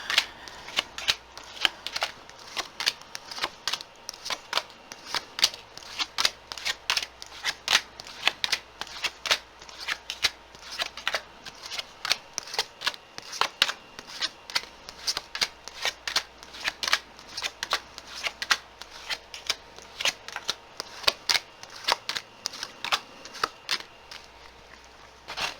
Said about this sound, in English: We're going to take that card that fell and start putting down the rest.